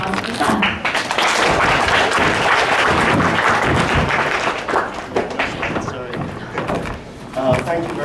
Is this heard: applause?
yes